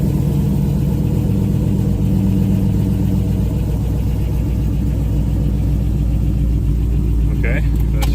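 A fifth-generation Chevrolet Camaro SS V8, freshly fitted with a new crankshaft position sensor, idles with a loud, steady, deep rumble close by, with a person talking over it.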